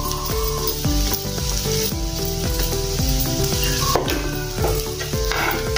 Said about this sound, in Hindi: अभी इसमें हम थोड़ा देर भूनने के बाद अदरक लहसुन को हींग डालेंगे